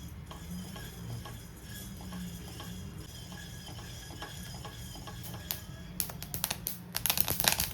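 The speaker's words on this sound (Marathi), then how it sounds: "हे जे कापड आहे ते घ्यायचं आणि फक्त अशी ज्वारी जी आहे ती घोळवायची." Sorghum grains are swirled with a cloth in a hot kadhai to make puffed lahya, a soft continuous rustling that turns into sharp scattered clicks and pops toward the end.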